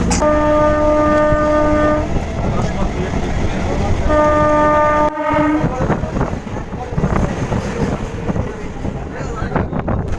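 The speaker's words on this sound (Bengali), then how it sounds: "ট্রেন এই মুহূর্তে এসে পৌঁছালো নদীয়ার বিন্নগর" A local train rumbles loudly with sustained horn tones sounding twice, then continuing rolling noise and clatter as it pulls into a station in Nadia, West Bengal.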